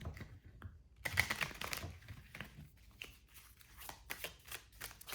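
Tarot cards handled and laid out for a reading, giving soft, quick clicks and rustling riffs of shuffled cards with light taps as they are placed, close and fairly quiet, with no talk.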